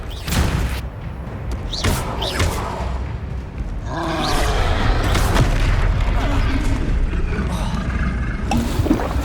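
The Confringo fire spell in Hogwarts Legacy goes off in loud booming blasts with crackling bursts during combat, dense and continuous, while a player speaks over the action.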